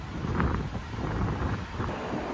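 Strong wind buffets the microphone in a steady, loud rumble with gusty surges throughout, mixed with a low roar like surf.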